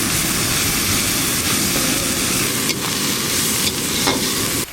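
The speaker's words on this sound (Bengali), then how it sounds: "আদা রসুন আর পেঁয়াজ একসঙ্গে ভালো করে ভাজা হয়ে গেল" Ginger garlic paste and grated onion frying in a pan for a tilapia curry, a steady close sizzle and crackle of hot oil running continuously with occasional stirring scrapes, no voices.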